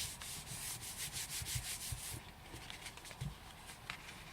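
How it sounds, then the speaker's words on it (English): The back of a paper card is rubbed by hand, making a soft, close, brisk scrubbing of quick strokes for about two seconds, then quieter rustling with a few light taps. "just turn it over and give it a good rub from the back"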